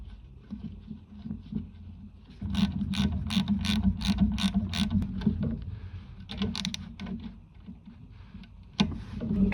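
Bolts fitted on a Toyota A131L automatic transmission during a rebuild, a series of quick close ratchet clicks in a rapid run, followed by scattered lighter metallic clicks and handling noises, fairly quiet with no talking.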